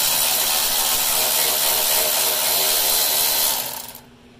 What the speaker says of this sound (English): I'm gonna do it with a drill